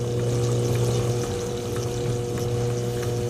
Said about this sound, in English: I'll turn the motor on. Motor's really noisy.